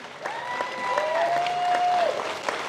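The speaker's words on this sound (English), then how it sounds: "I'd like you to give you an enormous round of applause for all of her effort" A crowd at a local protest against wind farms gives a round of applause, steady clapping heard alone with a sustained tone gliding over it.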